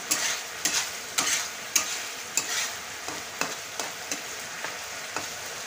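Mustard powder being stirred into royal achar in a pan: a steady frying hiss broken by a regular series of sharp scraping strokes, about one every half second, close and fairly loud with no voices.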